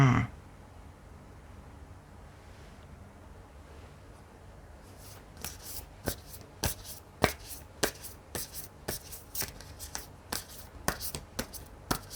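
Tarot cards being shuffled and laid out for a reading, quiet at first, then a run of sharp, close taps and slaps as cards are placed down one after another in an irregular rhythm.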